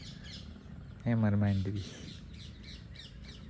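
Birds chirp faintly and repeatedly in the background around a village farm near Botad, where parrots gather in the trees; someone speaks briefly over the calls midway.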